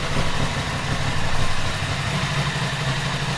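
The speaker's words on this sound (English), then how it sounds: "Now there's that familiar gurgling Aprilia sound coming out from their parallel twin." An Aprilia Tuono 660 parallel-twin engine idles with a loud, steady, gurgling low burble, close up and continuous, with no voices.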